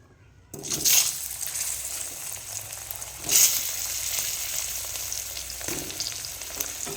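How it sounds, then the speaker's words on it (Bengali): Potatoes sizzle steadily in hot oil left from frying shol fish, with a louder hiss as pieces drop into the pan and occasional stirring sounds, close and continuous. "এবার ওই তেলে আলুগুলো ভেজে নেব"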